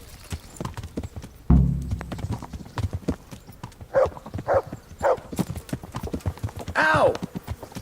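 Rhythmic clip-clop of horse hooves trotting close by in a video game, with a louder thud early on and a brief whinny near the end.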